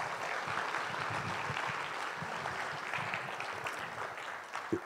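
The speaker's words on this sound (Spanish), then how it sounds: "Un aplauso para ustedes mismos." A concert audience applauds at a Christmas concert, a thick, sustained round of clapping from a full hall that stays steady throughout.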